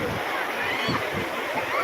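Sea waves wash in at Digha beach in a dense, constant roar of surf with windy noise over it, loud and close throughout.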